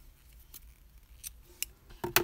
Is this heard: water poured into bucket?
no